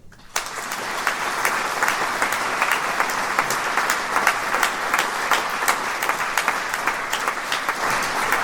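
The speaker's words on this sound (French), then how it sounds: "Il faut vraiment l'applaudir." Audience applause at a political meeting in Belfort begins abruptly after a moment of quiet and swells into sustained, dense clapping from a large crowd, staying loud and steady to the end.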